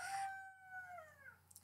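A pet rooster crows once, a faint, distant cock-a-doodle-doo with a drawn-out falling tail, heard alone indoors at a low level.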